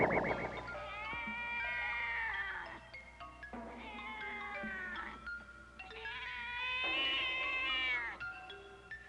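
A cat in a 1973 horror film gives several long, drawn-out meows one after another. The cries rise and fall in pitch and come through close and clear over a quiet background.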